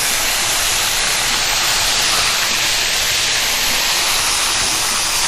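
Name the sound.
chicken frying in a pan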